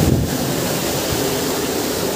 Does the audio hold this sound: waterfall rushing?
yes